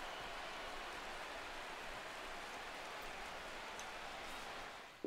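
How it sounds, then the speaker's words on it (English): Steady rain falls in the baseball video game MLB 16 The Show, a continuous even hiss of drops on a surface, soft and unbroken for the whole stretch and ending abruptly. "And now it's raining"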